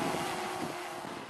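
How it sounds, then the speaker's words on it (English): Steady wind rushes over the microphone with a faint mechanical hum underneath from a hovering DJI Inspire 1 v2.0 drone, continuous and even. "Well, it's hovering nice. It's windy."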